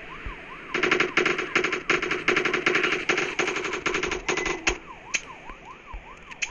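Rapid machine-gun bursts in the video game GTA, loud and repeated for several seconds, followed by the rising and falling wail of a police siren once the shooting stops.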